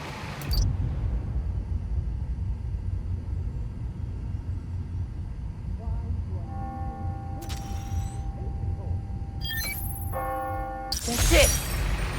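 Church bells ringing on the hour in the Spider-Man: Miles Morales game, tolling in a few bright strikes over a steady low city rumble, with a sharp crash near the end.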